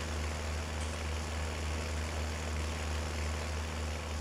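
A steady, loud farming-simulator video game vehicle engine drone with a deep low hum and constant rumble, unchanging throughout without any voices.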